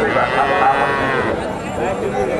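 Friesian and crossbred bulls moo at the Dhap cattle market in Bogura, with several drawn-out lowing calls close by over a busy market din. People talk in the background.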